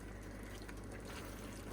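Water and cream pour into a cooking pan of leftovers with a short, quiet liquid splash and trickle over a low steady background.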